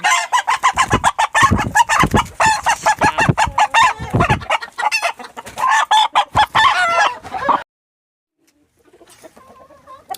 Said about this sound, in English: I got too many roosters in there harassing my hens.